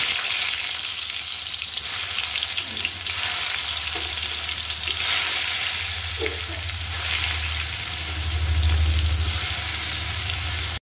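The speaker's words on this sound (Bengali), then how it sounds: "এখানে উচ্ছেটা ভেজে নেব।" Bitter gourd frying in a pan, with a continuous close sizzle and spatter that swells and fades over about eleven seconds, a few faint clinks of a utensil, and no voices.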